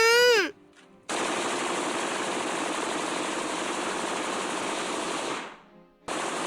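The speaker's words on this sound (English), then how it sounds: "as the gunfire continues." A sustained burst of rapid automatic gunfire in Steins;Gate rattles for several seconds after a short rising tone, stops briefly, then starts up again.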